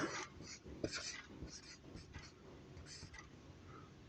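Trigonometry ratios being written by hand, heard as faint, close pen-on-paper scratches in short irregular strokes with pauses between them.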